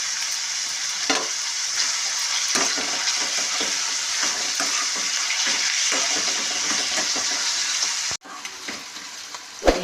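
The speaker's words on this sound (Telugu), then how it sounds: "ఉల్లిపాయ మగ్గిద్దని కొద్దిగా ఉప్పు వేస్తున్నాను." Onions sizzling steadily in a pan with a little salt for a bitter gourd curry, a loud even frying hiss broken by a few stirring scrapes and a brief clatter near the end.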